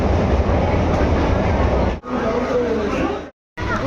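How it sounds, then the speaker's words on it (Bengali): Steady rumble of a moving train heard from inside the carriage, loud and continuous, with a brief cut near the end and faint voices in the background. "এখন আমরা রয়েছি ট্রেনে"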